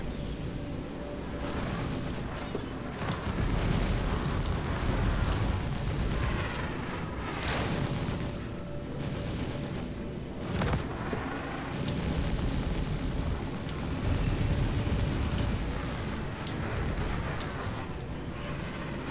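In Star Citizen, a Drake Buccaneer's weapons pound an enemy ship in space combat: a long, continuous roar of heavy gunfire and booming blasts, loud and sustained with slight surges and no talking.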